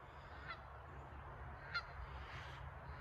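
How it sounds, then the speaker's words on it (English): Geese honk near a road, giving two or three short, fairly distant calls spaced apart over a steady low outdoor rumble. "See the geese?"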